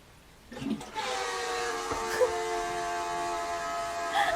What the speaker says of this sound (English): Somebody tell me why my toilet sounds like this.